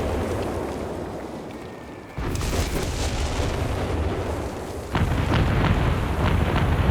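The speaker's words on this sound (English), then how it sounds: "I believe it said there are 3 separate artillery pieces, so they should target 3 units here." Off-map artillery strike in Company of Heroes 3 lands on panzer grenadiers and a Panzer IV: a dense, rumbling wash of explosions that swells sharply twice, each boom louder and heavier than the last, with no voices.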